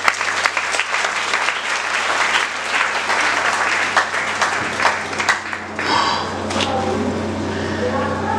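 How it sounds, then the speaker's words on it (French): A crowd applauds in a dense, sustained patter of many hands. The clapping thins out toward the end, and voices begin to come through. "c'est un applaudissement"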